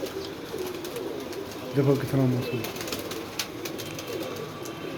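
Pigeons cooing outdoors in bad weather, a clear burst of low throaty coos near the middle, with someone speaking briefly and faint murmuring before and after.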